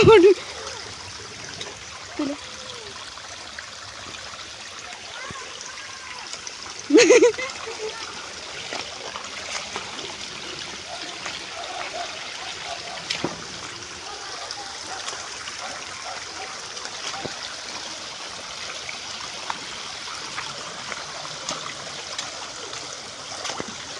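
Water trickles and flows steadily in a rural stream, a soft continuous wash heard at moderate distance, with occasional splashes and bumps and people talking over it now and then.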